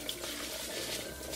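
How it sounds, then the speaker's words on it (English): Water runs over whole grain brown rice held in a small sieve, making a brief, soft, steady splash. "I've got 2 cups of whole grain brown rice that I'm rinsing and polishing in my little sieve here."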